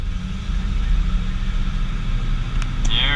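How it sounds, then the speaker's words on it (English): A grain truck engine idling steadily with a throaty, growling exhaust, a continuous low rumble close by with a brief higher squeal near the end. "I think the exhaust is it gives it a little bit of throaty action"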